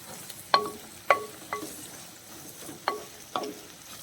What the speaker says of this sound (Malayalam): ഒരു സവാള അത് ഇതേപോലെ കനം കുറച്ച് അരിഞ്ഞതും കൂടി നമുക്ക് ചേർത്ത് കൊടുക്കാം അതും കൂടി ചേർത്തൊന്ന് വഴറ്റി കൊടുക്കാം